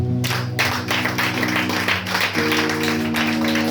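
A church congregation claps and applauds in praise of the Lord, a dense, steady wash of hands under sustained music, loud and close throughout.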